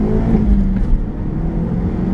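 A 2024 Hyundai Elantra N pulls hard in first gear from about 3,000 rpm, its engine a loud, close, steady low drone that builds without a break, with no talking.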